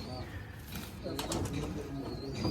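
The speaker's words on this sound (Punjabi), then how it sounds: "ਕਬੂਤਰ ਜੋੜਿਆਂ ਵਾਲੇ ਕਬੂਤਰ ਆਪਣੇ ਕੋ ਆਏ ਨੇ" Soft cooing from paired pigeons in a breeding loft, mixed with brief wing flutters, with people talking nearby in a quiet indoor setting.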